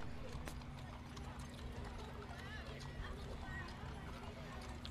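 Decorated horses clip-clop along the street in the 2012 Kingston Christmas parade, a steady run of hoofbeats under a low crowd murmur and distant voices.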